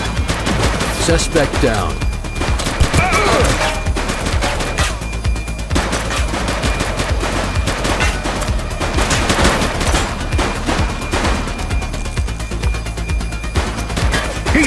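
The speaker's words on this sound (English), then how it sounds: "Light them up! Shots fired!" Police gunfire in The Precinct, a sustained loud barrage of rapid shots filling the whole stretch, with a brief voice speaking over it.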